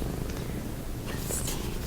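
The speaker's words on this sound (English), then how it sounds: "We've got cats napping on either side of us, as you can hear them purring." Cats napping in a cozy cabin purr softly and continuously, a low steady rumble close by with a faint higher rustle in the background.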